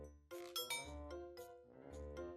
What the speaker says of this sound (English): And when I unlocked the doorbell rang.